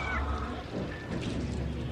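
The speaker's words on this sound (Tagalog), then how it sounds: "dito na naman yung pusa" A cat meows outdoors at a plant sale, a short tonal cry early on and another later, partly buried under steady loud background noise.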